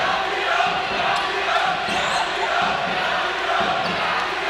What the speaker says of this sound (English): Fantastic crowd out here.